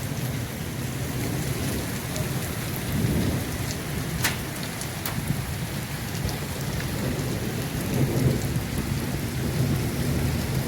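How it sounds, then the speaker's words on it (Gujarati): A thunderstorm over the town of Bagasara, Gujarat brings heavy rain with hail, a dense steady downpour with low rolling thunder rumbles underneath and a couple of sharp crackling cracks, no voices. "વીજળીના કડાકા ભડાકા સાથે વરસાદ ચાલુ બગસરાની અંદર."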